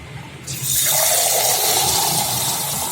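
Water rushes steadily into a pipe apparatus set up for a physics lab experiment on Hagen-Poiseuille flow, a loud continuous pouring and filling sound that starts abruptly and then holds alone.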